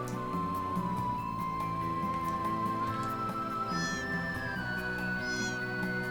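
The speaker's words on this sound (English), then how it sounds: "Yeah, Kitty, that's what you sound like." A cat meows in the video game Xenogears, a soft call over a steady bed of layered game music with sustained tones.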